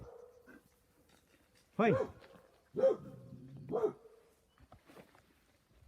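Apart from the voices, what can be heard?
dog barking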